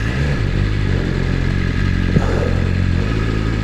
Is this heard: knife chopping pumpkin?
no